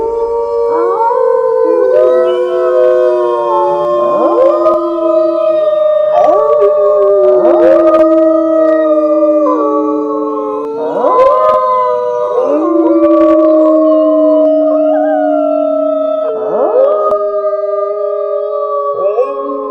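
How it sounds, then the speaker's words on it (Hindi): A chorus of jackals howling in a forest, several overlapping wavering cries rising and falling in long sustained calls with occasional yips, loud and continuous without speech. "जंगल से दूर सियारों का हुआ हुआ करके चिल्लाने की आवाजें आनी शुरू हो गई"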